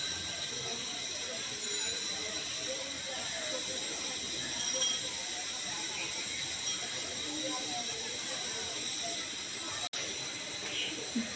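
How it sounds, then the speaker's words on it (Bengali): Cream rolls frying slowly over medium heat in hot oil, a soft steady bubbling hiss that runs continuously at moderate level, with faint voice-like murmurs underneath. "রোলটাকে দিয়ে মিডিয়াম আঁচে আস্তে আস্তে ভেজে নিতে হবে।"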